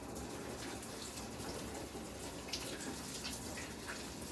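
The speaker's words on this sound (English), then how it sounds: "let me wash my hands again." Tap water runs steadily into a kitchen sink as hands are washed during cooking, a continuous close splashing hiss with slight surges and no talk.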